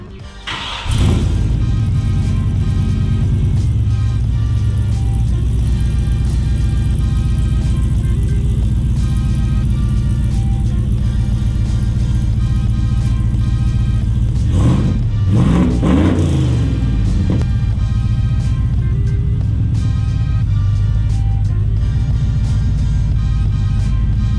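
A pickup truck fitted with monoleaf suspension idles and pulls away toward a weigh scale, its engine droning steadily and loud up close, with a brief rev midway and no talking.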